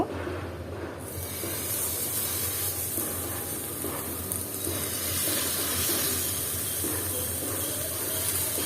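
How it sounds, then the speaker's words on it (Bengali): Taki fish (snakehead) frying in hot oil in a pan, a loud, steady hiss and sizzle that swells sharply after the first second and keeps crackling without a pause. "আর এখন আমি মাছটা ভেজে নিব"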